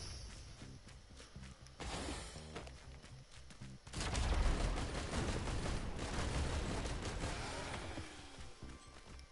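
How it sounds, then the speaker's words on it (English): Commando's suppressive fire in Risk of Rain 2: a dense, rapid stream of gunshots starting softer, then swelling into a loud, sustained barrage with whooshing effects that slowly tapers near the end. "I'm just gonna run suppressive fire"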